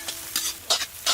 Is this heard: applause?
no